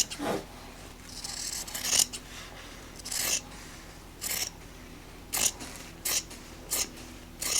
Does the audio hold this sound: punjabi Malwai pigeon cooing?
no